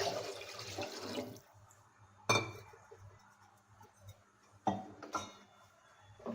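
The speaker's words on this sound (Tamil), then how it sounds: "தண்ணி நம்ம சேர்த்துக்கலாம் கொஞ்சம்." Water pours into milk in a pot for sago payasam, a short splashing gush at the start followed by quiet gaps and a few sharp metallic clinks of kitchen utensils.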